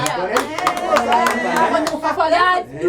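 Several sharp claps ring out in a Rwandan comedy scene, mixed in with lively overlapping voices and chatter, all close and fairly loud.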